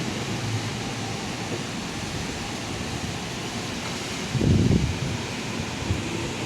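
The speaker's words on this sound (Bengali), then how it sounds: "হাওয়া দিচ্ছে, খুব সুন্দর হাওয়া দিচ্ছে।" Storm wind in Cuttack blowing in a steady broad rush with a soft rustle, one stronger gust buffeting the microphone briefly.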